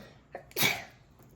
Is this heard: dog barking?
no